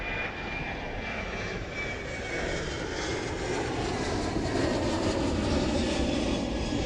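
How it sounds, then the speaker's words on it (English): A Qantas jet airliner roars on takeoff from Adelaide Airport, a loud, continuous engine rumble that swells slightly as it departs, with no voices. "what's this one taking off? This one looks to be Qantas 678 to Melbourne."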